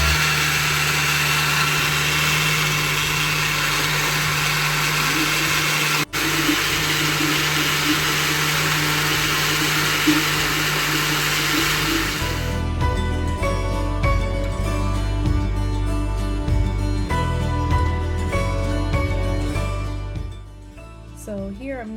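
An electric mixer whirs steadily through persimmon batter of wet and some dry ingredients, a loud, constant motor hum that cuts off about halfway, followed by quieter kitchen sounds that fade at the end.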